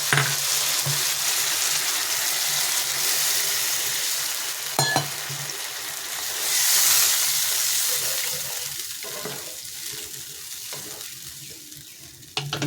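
Oil and water go into a hot pan and sizzle steadily and close, with a few clanks from the pan and utensils, then the hiss slowly fades toward the end.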